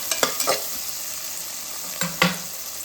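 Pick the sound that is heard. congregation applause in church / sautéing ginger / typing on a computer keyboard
sautéing ginger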